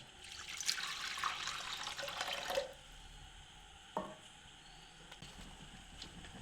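Water pours into a pot for making sugar syrup, a steady splashing stream for about two and a half seconds, followed by a few faint drips and clinks.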